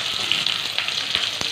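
Chopped onions dropped into hot groundnut oil, giving a loud, close, continuous sizzling hiss with a few brief pops.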